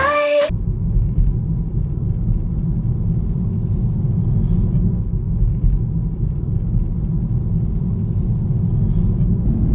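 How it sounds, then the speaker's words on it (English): A car driving through Sydney's Cross City Tunnel, a steady, loud low rumble of engine and road noise that fills the enclosed space, opening with a brief burst of music before the drone takes over. "This is one of many tunnels we have in Sydney. This is the Cross City Tunnel."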